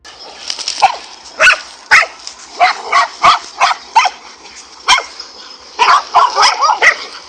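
A pack of dogs barking close and loud while fighting a cobra, with sharp repeated barks and yips in irregular bursts and clusters of overlapping barks throughout.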